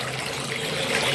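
Water pours steadily out of a 2-inch pipe on a DIY aquaponics filter, a continuous close splashing flow with no talk over it.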